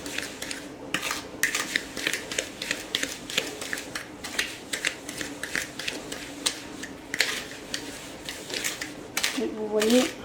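A utensil scraping and tapping in a bowl while sugar is mixed into butter, a steady run of close, crisp clicks and scrapes at an uneven rhythm, with a soft voice talking quietly underneath.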